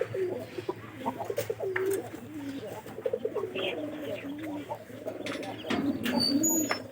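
Domestic pigeons coo repeatedly in soft, throaty rolling phrases close by, with occasional chirps and light background rustle throughout.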